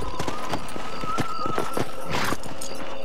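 Horses trotting in the Western game Red Dead Redemption. The hoofbeats are a steady, close clip-clop with a soft background tone underneath. No one talks.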